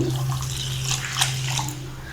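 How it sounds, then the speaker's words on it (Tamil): Water pours into a bowl of semolina (rava) for paniyaram batter, a short, close, continuous splashing stream with no voices. "இதில் நம்ம கொஞ்சமாக தண்ணி ஆட் பண்ணி"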